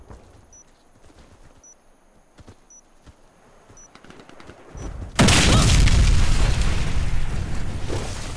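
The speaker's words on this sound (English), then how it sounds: "We detonated the bomb." Bomb detonation in the shooter game Warface: quiet ticking and faint beeps lead up to a sudden massive blast that rolls into a long, loud rumbling roar.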